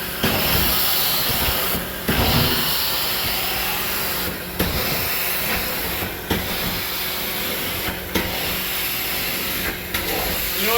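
An Amtex Stack 570 steam cleaner hisses in loud, continuous bursts, broken by short pauses every couple of seconds as the steam cuts and restarts, close by and with no talking.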